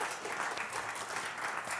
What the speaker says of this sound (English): So I would like to ask again a big applause for JP.